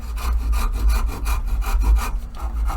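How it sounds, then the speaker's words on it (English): A handsaw scores around a marked line on copper-related stock in short, rhythmic back-and-forth strokes. The rasping pulses are close and fairly loud, and no one speaks. "I'm gonna just score all the way around with this saw"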